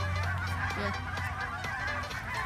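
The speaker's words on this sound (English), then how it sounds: "Look at all those chickens." A crowded flock of chickens makes a loud, continuous din of overlapping clucks and honking squawks close by.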